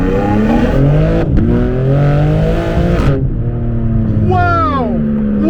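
A BMW G82 M4 Competition revs hard. The engine note rises through several rising sweeps, drops sharply, then climbs again in a loud, close run with faint voices under it.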